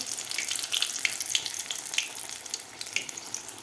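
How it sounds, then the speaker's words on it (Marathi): Chilli pakoras in gram-flour batter frying in hot oil, a steady, fairly quiet bubbling sizzle with crackling pops throughout. "आता आपल्याला व्यवस्थित हे मिरच्या तळून घ्यायचे आहेत पकोडे"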